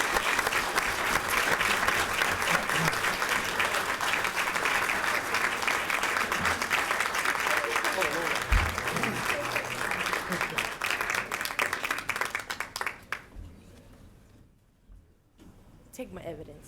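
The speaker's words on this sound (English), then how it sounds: "Staff, you guys got to put a loud round of applause for both Tamara and Jana." Loud, sustained applause from a crowd at a school district board meeting, honoring two staff members, with voices mixed in; the clapping runs steadily for about twelve seconds, then breaks off, leaving a quiet room with brief talk.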